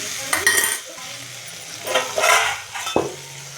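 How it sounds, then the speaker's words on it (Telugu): A utensil stirs crushed garlic in a frying pan over a soft sizzle, with a few light metallic clinks; short bursts of stirring separated by quieter frying. "దానిలోకి ఇలా దంచి పెట్టుకున్న వెల్లుల్లి వేసుకొని ఇలా కలుపుకొని"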